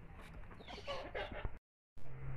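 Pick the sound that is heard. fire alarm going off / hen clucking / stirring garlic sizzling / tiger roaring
hen clucking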